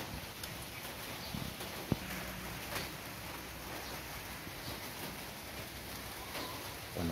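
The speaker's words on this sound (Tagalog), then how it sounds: "Puro ulan." Heavy rain falling outdoors on a farm with goats, a steady, soft hiss that covers everything, broken once by a sharp knock, with a few faint drips and animal sounds in the background.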